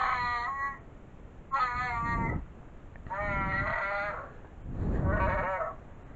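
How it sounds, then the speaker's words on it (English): A furry Chewbacca plush toy gives four warbling, bleat-like electronic calls, each about a second long, separated by short pauses and close to the mic. "you got this furry little creature making these weird sounds like this"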